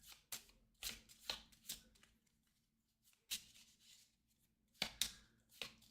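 A deck of game cards for the Eldritch Horror board game is shuffled by hand in several short riffling bursts separated by pauses, close and quiet.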